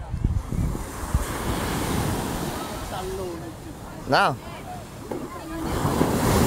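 Ocean waves break on a shore in a steady broad wash with wind buffeting the microphone, a brief bird-like chirp, and a short spoken word.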